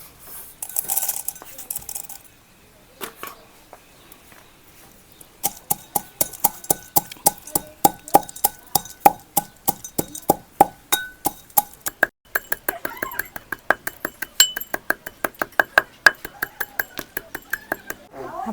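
Salted peanuts being crushed by pounding in a kitchen, a long run of sharp, rhythmic metallic clinks and knocks, fast and evenly spaced, after a few scattered clatters at the start.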